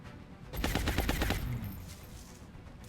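Rapid automatic gunfire from an XCOM Long War squad's volume-of-fire ability, a short burst of closely spaced shots rising suddenly and fading after about a second.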